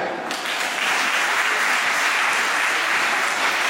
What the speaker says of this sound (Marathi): सुरुवातीला स्वतःसाठी, आपल्या पालकांसाठी टाळ्या तरी होऊ द्या